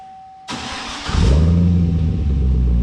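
A Cadillac CTS-V with its rear mufflers cut out cranks over and fires, then settles into a deep, loud, rumbling idle heard up close with no one speaking.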